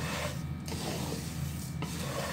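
Spoon stirring garam masala whole spices such as cumin, cloves and black pepper roasting in a pan, a continuous close rasping scrape with short rhythmic pauses.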